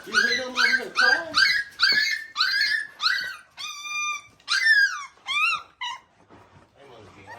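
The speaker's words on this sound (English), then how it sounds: "You hear them over here crying?" A litter of three-week-old Bully puppies whimpers and cries close by, rising and falling yelps in a quick run that thins out toward the end.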